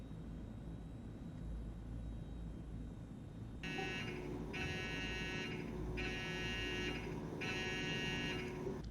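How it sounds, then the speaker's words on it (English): A fire-alarm buzzer in a flight simulator cockpit, warning of a burning engine on a large transport plane, sounds in four loud, steady pulses over a constant engine drone. "That was an emergency sound thing."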